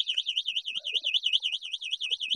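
An electric scooter's anti-theft alarm warbles rapidly up and down in a steady, piercing siren pattern, close and continuous, with faint clicks beneath it.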